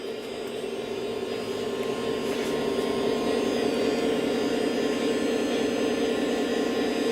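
A Lionel Union Pacific SD70 model locomotive moves very slowly while pulling a string of die-cast hopper cars on a home layout, giving a steady, continuous motor hum and rolling whir that stays even throughout.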